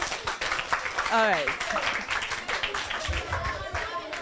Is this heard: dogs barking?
no